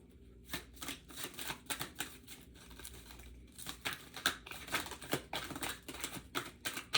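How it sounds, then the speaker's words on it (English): A tarot card deck being shuffled by hand, repeated crisp riffling bursts and soft card slaps in an uneven rhythm, close and fairly quiet with no talking. "I'm gonna shuffle one more time."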